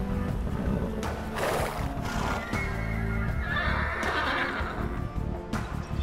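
Horses neigh repeatedly in the Age of Empires II: Definitive Edition strategy game, the whinnies rising over a dense, loud battle din with hoof clip-clops and no talk.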